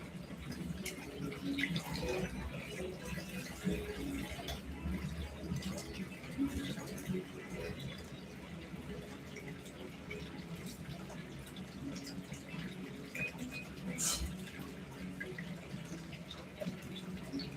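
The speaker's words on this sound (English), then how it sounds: "So rinse the rice." Rice is rinsed in a kitchen under a running water tap, with a steady stream of water and faint swishing and splashing that continue evenly throughout at moderate volume.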